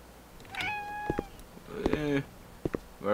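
A cat in a horror video game meows several times, with short rising and falling calls in close succession and brief knocks between them.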